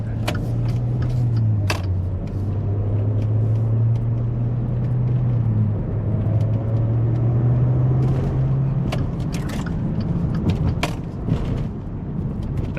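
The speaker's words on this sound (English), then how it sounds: "listen to the downshifting." Car engine heard from inside while driving, a steady loud low drone that holds, steps down briefly, then rises before dropping away, as during downshifting, with scattered clicks and creaks on top.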